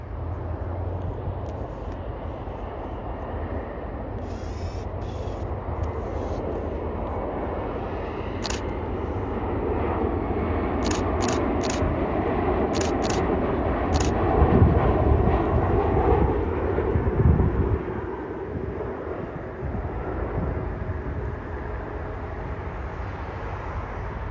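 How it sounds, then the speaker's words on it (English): A SkyWest-operated Delta Connection Embraer ERJ-175 with enhanced winglets arrives at San Jose airport: a steady broadband jet roar that swells in the middle and then eases, with bursts of camera shutter clicks early on. "a Delta Connection Embraer ERJ-175 with enhanced winglets, operated by SkyWest Airlines, and she has just arrived from Los Angeles International Airport"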